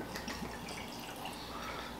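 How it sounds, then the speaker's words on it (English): Jack Daniel's Small Batch Coy Hill Tennessee whiskey, a 149.8-proof special release, pours from a bottle in a brief, close, steady liquid trickle. "Nice pour."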